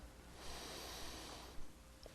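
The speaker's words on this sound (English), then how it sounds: "One more breath." A slow, deep breath drawn in and let out while seated during a neck stretch, with a soft airy hiss lasting about a second, then quieter breathing afterward.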